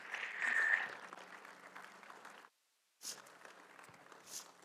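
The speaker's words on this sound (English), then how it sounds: "Can everybody give God a hand clap of praise this morning?" A church congregation gives a brief, soft round of applause during a morning service, a faint diffuse patter that stops abruptly, then resumes quietly after a short gap.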